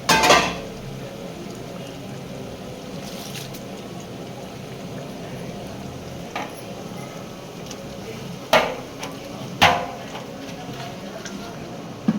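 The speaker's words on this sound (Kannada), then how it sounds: "ಆರು ಕೆ ಜಿ ಟೊಮೊಟೊ ಕಟ್ ಮಾಡಿ ಇಟ್ಕೊಂಡು ಆರು ಕೆ ಜಿ ಟೊಮೊಟೊ ಹಾಕ್ತಾಯಿದ್ದೀವಿ" Six kilograms of chopped tomatoes go into a large cooking pot for festival tomato rice, with a sharp clank at the start, a few metallic clinks of utensils on the pot later, and steady low kitchen background between.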